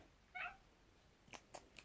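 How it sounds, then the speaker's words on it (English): A cat enters a quiet room, giving one short meow-like call followed by a few faint, soft clicks or taps a moment later; no one speaks. "My cat just came in."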